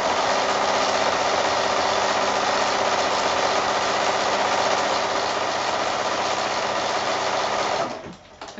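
A sewing machine stitching PVC-coated fabric runs loud and close at a fast, continuous hum for nearly eight seconds, then stops.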